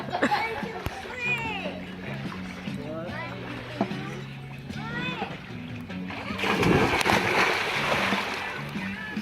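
People jumping into a pool with splashes and churning water, the heaviest wash of water coming late, under a mix of talk and excited voices.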